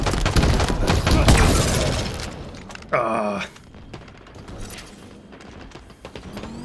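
Close-range Cinder Shot fire in Halo Infinite multiplayer: a sharp, loud burst with a short ringing tail, set against a dense, noisy stretch of combat sound at the start and quieter game ambience afterward.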